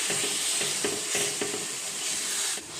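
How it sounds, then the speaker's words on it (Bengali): Spatula stirring melting jaggery in a pan over a very low flame while making a sweet-sour tamarind pickle, with a steady soft sizzle and repeated scraping strokes at a regular rhythm, close and moderately loud, no talking. "গুড় দেওয়ার পর খুন্তিটা এইভাবে চালিয়ে নিতে হবে, না হয় নিচে দিয়ে লেগে যাওয়ার সম্ভাবনা আছে"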